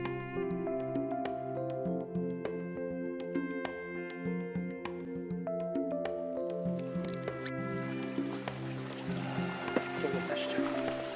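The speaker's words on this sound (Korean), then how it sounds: "크고 작은 폭포들이 봄의 서곡을 연주하는 곳." A mountain valley stream with small waterfalls at Gangcheonsan in spring flows steadily, its soft rushing wash partly buried under a bed of sustained music that covers the whole stretch.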